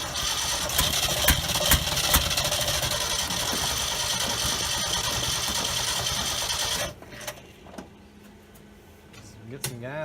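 A 1969 Ford F250 truck engine, starting after sitting eleven years, cranks and runs with a loud, rattling clatter for about seven seconds before cutting off, leaving quieter background noise.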